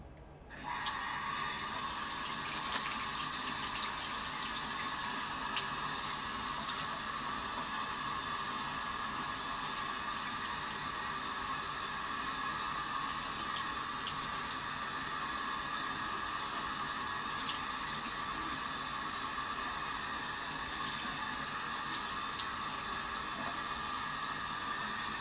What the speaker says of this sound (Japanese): お顔を洗います。